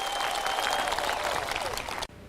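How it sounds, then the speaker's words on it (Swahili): Dense applause from a gathered crowd honouring farmers at a Kenyan community event, steady and loud for about two seconds before cutting off abruptly. "Tuwapigie wakulima wetu makofi jameni"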